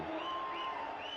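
A cricket crowd roars and cheers at Queen's Park Oval in Trinidad during a West Indies versus South Africa Test match, a dense, sustained wash of distant voices with no pauses.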